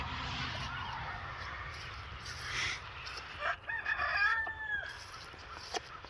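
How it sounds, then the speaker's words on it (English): A rooster crows once, a drawn-out harmonic call over a constant outdoor hiss, moderately distant and not very loud. "We got lots of roosters this year"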